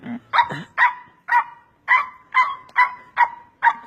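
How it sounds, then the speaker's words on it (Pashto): A pet dog barks about nine times in a steady, evenly spaced series, each bark loud and close. "this is doggy, my doggy"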